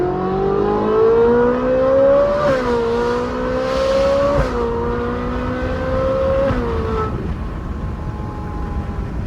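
A Ferrari 458 Spider accelerating hard at partial throttle, its high-revving engine climbing through several gears with a sharp rising pitch that drops at each shift, loud and close, then settling to a lower hum.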